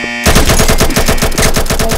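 Rapid automatic gunfire from a video game bursts in abruptly and keeps going as a loud, fast, evenly spaced stream of shots.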